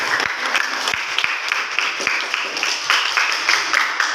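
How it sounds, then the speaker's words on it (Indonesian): Students in a classroom applaud their group presentations, a dense, continuous burst of many hands clapping together, loud and close, with a few sharper claps standing out. "Tepuk tangan untuk kalian semua."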